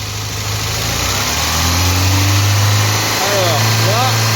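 A Lancia Fulvia V2 engine under ignition-timing work rises from idle and holds at around 3000 rpm, a loud, close, steady mechanical drone with slight pitch wavers and a brief dip near the end.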